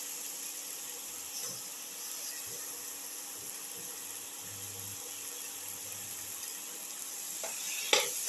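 Eggplant pieces fry in a pan with a soft, steady sizzle and hiss, faint and continuous, then a sharp clink near the end.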